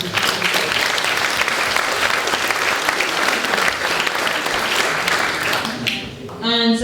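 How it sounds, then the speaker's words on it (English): Sustained, loud round of applause from an audience of local residents at a community meeting, dense clapping filling the room and dying away near the end as a voice begins. "I think a round of applause for you guys as well"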